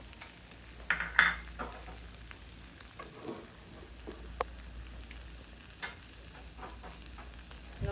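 Ham fries in a pan with mixed vegetables, a faint steady sizzle with occasional scrapes and clinks of stirring and no talking.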